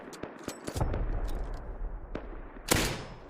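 Video game gunfire with several sharp, close shots, including a louder burst near the end, over a faint background din.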